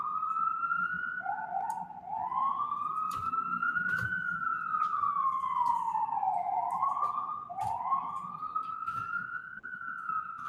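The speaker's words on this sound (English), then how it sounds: "apologize if you guys are hearing that siren." An emergency vehicle siren on a New York City street wails in steady rising and falling sweeps, fairly loud, and holds through the whole stretch over a low urban rumble with no talk.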